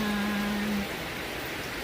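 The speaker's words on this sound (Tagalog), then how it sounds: "Ganito pa kalakas ang ulan." Heavy rain pours in a dense, steady hiss close by, with a brief low hum fading out partway through, outdoors on the way to work.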